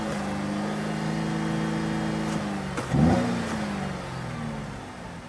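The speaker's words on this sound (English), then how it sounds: "So let me rev up the engine." A Cadillac SRX4 with bad catalytic converters idles with a steady hum, then revs in one quick blip around the middle before settling back, heard up close with no talk.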